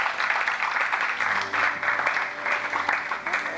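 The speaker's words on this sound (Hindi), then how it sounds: "वीना के लिए तालियां भाई।" Studio audience on a Ramzan television show applauds in a brisk, steady round of clapping throughout, fairly close and without pause.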